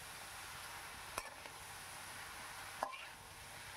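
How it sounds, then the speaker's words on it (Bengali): Spice paste stirred into chopped bottle gourd in a pan for a Bengali lauer ghonto with bhetki fish: a soft, steady sizzling hiss with two brief utensil clicks against the pan, faint and close. "দেখুন ভালো করে একটু নাড়িয়ে চাড়িয়ে নিচ্ছি, পুরো মশলাটা যেন লাউয়ের সাথে মিক্স হয়ে যায়"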